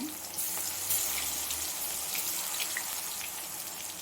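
Soaked cauliflower pieces drop into hot oil, which flares into a steady, close hiss of frying with faint crackles, lasting throughout with no talking.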